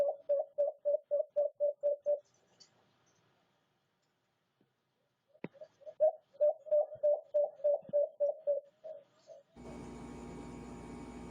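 White-eared brown dove calling in two bursts of rapid, evenly spaced hollow notes, each run of about eight to ten pulses, separated by a quiet gap, fairly clear and close, ending in a brief noisy hiss.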